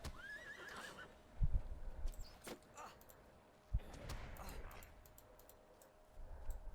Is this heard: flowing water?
no